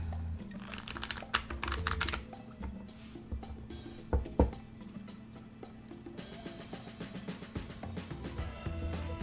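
Tarot cards being shuffled by hand in bursts of soft, rapid papery clicks and riffles, close and fairly quiet, over a low steady background hum.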